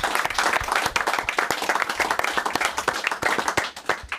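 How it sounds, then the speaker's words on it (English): A live television studio audience breaks into sustained clapping after a former footballer is praised, dense overlapping handclaps at fairly close range, with no talking. "I think that deserves a round of applause"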